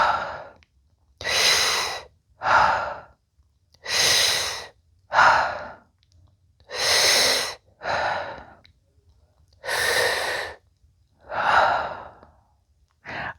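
Deep, slow breaths during a stretching exercise, loud and close, alternating long inhales and exhales in a steady rhythm with brief silences between them.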